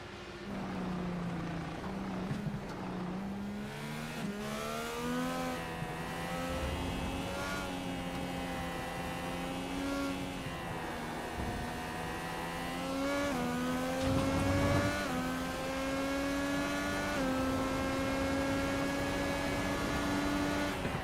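An IndyCar open-wheel race car in a racing video game runs at full throttle, its high engine note climbing and shifting steadily through gears for a long, continuous stretch with no pauses.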